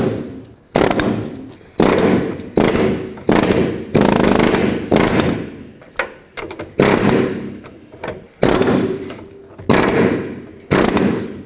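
A pneumatic air chisel hammers at a front shock absorber nut on a 2003-2021 Chevrolet Express van, firing in about nine loud, rapid bursts separated by short pauses.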